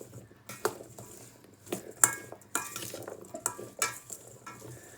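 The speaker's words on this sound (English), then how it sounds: "Now I'm going to give them a good stir around." Roasted chickpeas are stirred to coat them in seasoning, giving irregular clinks and scrapes of a utensil against a bowl, fairly close and quiet, with no talking.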